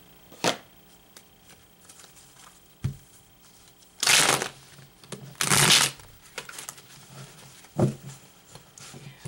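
Playing cards being shuffled up close, with a few quick riffles and bursts of flapping card noise between quieter taps and handling sounds.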